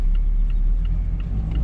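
A 2021 Mazda MX-5 Miata Grand Touring cruises along, its engine a steady deep rumble mixed with road and wind noise, close and continuous with no talking.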